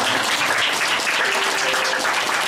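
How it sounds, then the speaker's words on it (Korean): A church congregation gives welcoming applause during a Sunday service, a steady dense wash of many hands clapping together at moderate volume without talk. "우리 이분들께 환영의 박수를 보내드립니다."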